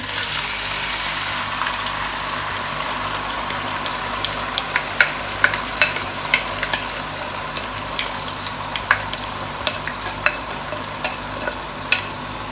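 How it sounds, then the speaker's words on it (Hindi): Chicken pieces frying in a pan as the base for a chicken vegetable pasta, a continuous close sizzle and hiss with frequent stirring taps and utensil clicks against the pan, alone without talk. "चिकन हमारा माशाल्लाह से बहुत अच्छे से फ्राई हो रहा है"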